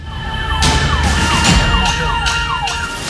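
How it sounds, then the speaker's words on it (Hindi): An ambulance siren wails with repeated sweeping tones while the ambulance is stuck in a long traffic jam in Hyderabad, stretching from Abids to Koti. Steady traffic rumble runs underneath throughout. "हैदराबाद में जाम में फंसी एम्बुलेंस।"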